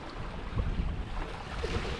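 Sea waves washing at a fishing spot on the coast, a steady broadband rush of surf with some wind, continuous and moderately loud with no voices.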